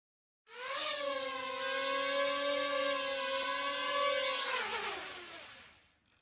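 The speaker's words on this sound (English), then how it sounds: "it took off, it went forward for 2 seconds at the speed of 50 and then it landed" A small programmable drone whirs up sharply at takeoff, holds a steady buzzing propeller hum with rising harmonics while it flies forward, then winds down and stops on landing; loud and close, with no talk.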